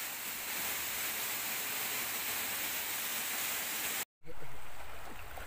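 Steady broadband rush of the Walang Langit Falls waterfall, a constant roar of falling water that drops out for a moment near the end before resuming.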